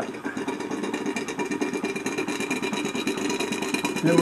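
A small, medium-power industrial engine, normally coal-heated but gas-heated here, runs with a steady rapid chugging pulse, close and fairly loud.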